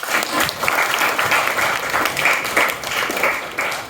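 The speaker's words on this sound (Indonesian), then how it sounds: "Beri tepuk tangan untuk Nana." Students applaud together in a classroom, a dense burst of clapping that carries steadily for a few seconds at moderate loudness.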